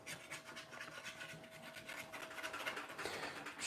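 Scraping and rubbing while working short or quick puff pastry dough for a peach tarte tatin, a steady rasping texture that continues throughout, close and fairly quiet with no talking.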